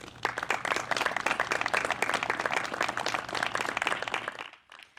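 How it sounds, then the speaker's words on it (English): Applause for board members at a memorial wall service, a crowd clapping steadily and fairly loudly, then fading out near the end. "Let's give a round of applause for the ICEMA board members."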